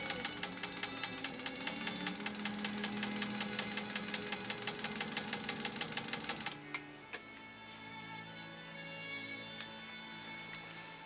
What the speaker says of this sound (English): machine just sewed it like it was a light cotton